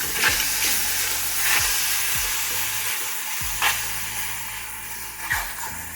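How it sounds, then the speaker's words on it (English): Strawberries with sugar and lemon juice are stirred in a pan, giving a steady soft hiss broken by a few sharp scrapes of the spoon against the pan, close and fairly loud, with no talking. "Now get everything mixed."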